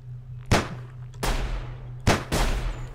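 Four sharp gunshots ring out from the video game Sir, You Are Being Hunted, loud and close with ringing tails, spaced irregularly over a low steady hum.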